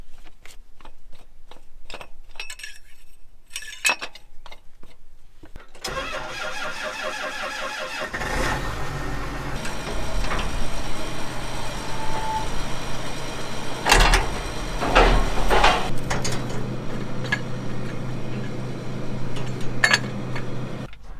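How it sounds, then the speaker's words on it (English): Combine harvester and auger cart tractor engines starting up for corn harvest, a quiet start giving way to a loud, steady diesel rumble that settles into a warm-up idle, with a few sharp clanks along the way. "I'm gonna go check oil on the combine and the auger cart tractor and get them warming up."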